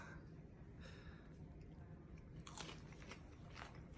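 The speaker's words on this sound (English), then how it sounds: "Yeah, you can hear the crunch." Crunchy bites into a fried cricket, a street-food snack from Chiang Mai, Thailand, give close, dry crackling chews, sharpest and loudest around the middle and continuing in short bursts over steady background noise.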